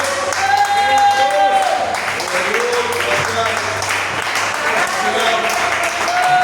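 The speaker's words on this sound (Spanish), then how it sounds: "Alguien que le dé un aplauso al Señor en este momento." A church congregation applauds during a sermon: steady clapping throughout, mixed with voices calling out and tonal vocal sounds above it.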